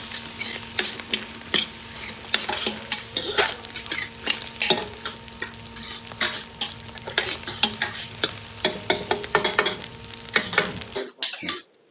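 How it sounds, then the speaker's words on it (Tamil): Three split tomatoes sizzle and fry in a pan for a tamarind curry, with steady stirring scrapes and clicks throughout; the sound is close and continuous until it cuts off abruptly near the end. "ஒரு மூணு தக்காளி பிளந்து போட்டோம் கொஞ்சம் தக்காளி லைட்டாக தோல் சுருள்கிற அளவுக்கு வதக்கினா போதும்"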